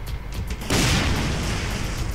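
A deep booming explosion in the Brutal Doom mod bursts in suddenly after a brief lead-in and keeps roaring as a loud, dense rumble to the end.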